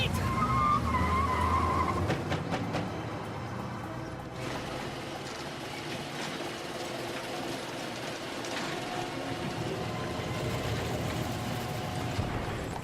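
In a French-dubbed horror film chase, a car engine revs and its tires squeal and skid through a long, loud, continuous stretch with shifting intensity, with no speech over it.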